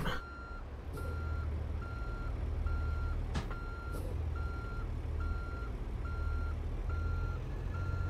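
A truck in American Truck Simulator sounds its reversing alarm: evenly spaced electronic beeps repeat over a low diesel idle rumble. A sharp hiss, like an air brake, cuts in briefly partway through.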